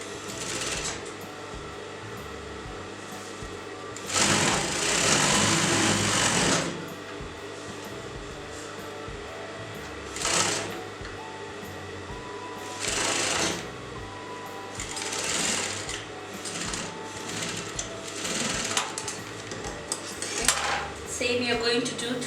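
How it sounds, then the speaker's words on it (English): Sewing machine stitching the neckline and shoulders of a circular poncho: several loud mechanical whirring runs of a few seconds each, separated by quieter pauses with fabric handling, ending in shorter stop-start bursts. "So let me sew that from the bottom."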